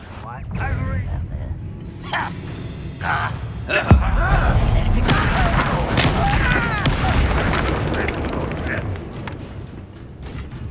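Confringo blasting spell explosion during combat in Hogwarts Legacy, a sharp boom near the middle with crackling debris, surrounded by shouting voices and other spell effects.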